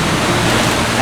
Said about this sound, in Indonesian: air terjun yang ada di Desa Pasawan di Kabupaten Purwakarta